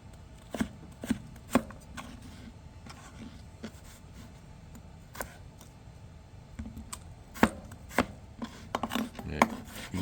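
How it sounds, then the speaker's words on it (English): A knife chops on a cutting board in sharp, irregular taps, small-dicing a seedy vegetable for homemade gyros, close and fairly quiet with no talking. "You give this a small dice."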